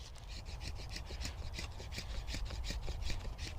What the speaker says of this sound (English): you'll start to get some really thin bits of wood coming off like sawdust